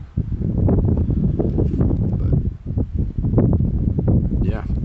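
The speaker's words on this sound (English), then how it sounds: "It's a little windy" Outdoor wind buffeting a microphone on a windy day, low rumbling gusts that rise and dip unevenly, close and loud, with a voice talking over it.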